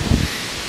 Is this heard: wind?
yes